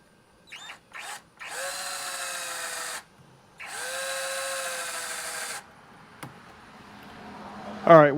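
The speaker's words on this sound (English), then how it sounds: "Now we will proceed to drill our hole that we center punched." Power drill boring a center-punched hole in a pre-2019.5 Harley-Davidson primary cover, with two sustained whining runs of about one and a half seconds each, short trigger blips before them and a clatter at the end, all heard close.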